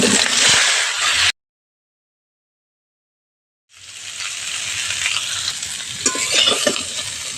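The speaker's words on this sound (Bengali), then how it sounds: "সেদ্ধ করে রাখা এঁচড়গুলো ভেজে নেব" Boiled young jackfruit pieces frying in a pan of hot oil, a loud close sizzle that cuts to silence and then returns with stirring and bubbling.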